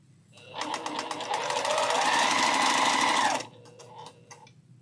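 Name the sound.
sewing machine stitching 1.5 inch quilt strip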